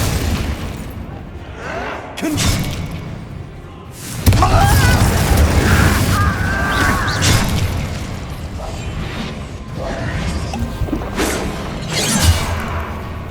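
Spell blasts from the Hogwarts Legacy video game boom and crash in repeated bursts, with heavy impacts, shattering debris and mechanical rumbles over about thirteen seconds. A voice calls out over the loud, dense clamour.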